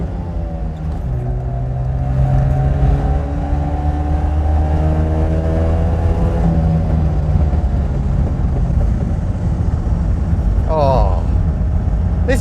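A 1974 Daihatsu Fellow Max two-stroke kei car engine drives along loudly and steadily, its buzzy note rising and falling in pitch as it revs up through the gears.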